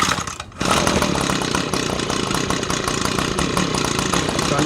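Small engine of stored summer equipment, left on choke: a short quiet moment, then the engine catches and runs loud and rough close by, buzzing steadily to the end.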